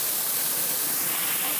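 Water rushes out of the test cocks on a backflow preventer during flushing, a loud, continuous, broadband hissing spray that stays steady throughout.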